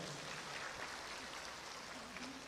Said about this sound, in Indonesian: Tepuk tangan dong buat kita semuanya.